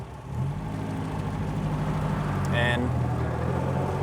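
A 1954 MG TF sports car pulls away in first gear, its engine a steady low drone with gearbox chatter, heard from inside while someone talks over it.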